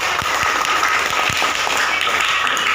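Classroom of students claps for classmates called to the front during a lesson, a continuous wash of hand clapping at moderate volume that holds steady throughout, with a few sharper individual claps standing out.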